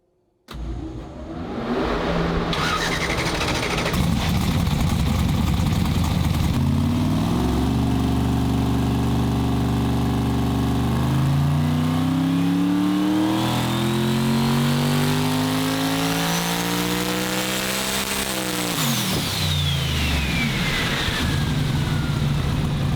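A loud car engine fires up and winds through a full-throttle pull on a chassis dyno with the torque converter locked, pitch climbing steadily for many seconds before dropping off as the revs fall.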